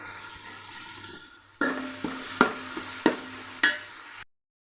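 Tomatoes frying in a pan with ginger garlic paste give a steady close sizzle, broken by several sharp stirring scrapes and clatters before stopping abruptly.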